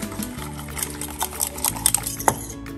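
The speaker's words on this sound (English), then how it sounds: "So we're gonna just whisk that up." A whisk beating a fish sauce dressing with anchovy sauce in a bowl, quick irregular clicking and tapping strokes over about three seconds, close and fairly loud, with no talking.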